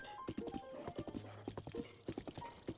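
A horse in The Legend of Zelda: Breath of the Wild clip-clops in a quick, even gallop of hoofbeats, close and steady, with game music notes and no talking.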